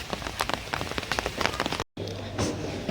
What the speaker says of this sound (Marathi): फायनली एक तर पाऊस तरी आला